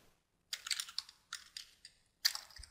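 Short bursts of typing on a computer keyboard entering text in Photoshop, crisp close key clicks in quick clusters separated by moments of silence.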